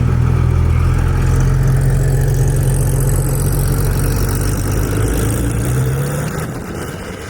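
A Porsche 911 Turbo S driven in Sport Plus mode gives a loud, steady low engine drone that holds throughout, then eases off slightly near the end.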